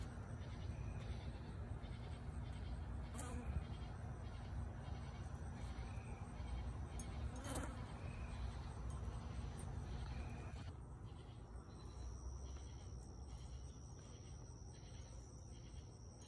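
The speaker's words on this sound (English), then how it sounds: "So this cicada is really stressed out." A stressed cicada buzzes at night in a grassy spot, a continuous shrill drone with pulsing rhythmic chirps layered over it, steady throughout with a couple of brief clicks.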